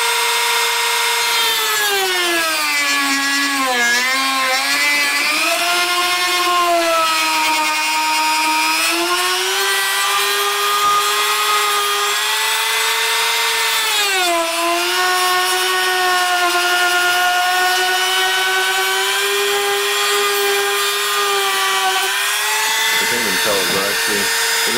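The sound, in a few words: power tool cutting a PSU shroud part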